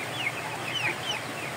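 Shamo chickens cluck softly near their coop in steady rain, with brief, faint calls rising over the constant hiss of rainfall.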